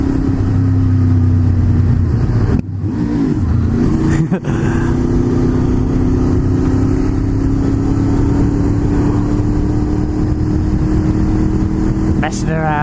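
A loud motorbike engine rumbles steadily through a tunnel on a Christmas Eve ride out, its tone slowly rising as it revs, with someone talking over it and a couple of sharp knocks.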